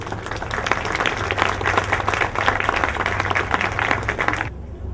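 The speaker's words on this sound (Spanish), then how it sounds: "le damos la bienvenida con un caluroso aplauso a la magíster Claudia Monsalve Zanatti" Warm welcoming applause from an audience greeting a guest speaker at a faculty climate-change and carbon-market event, steady dense clapping throughout before stopping abruptly near the end.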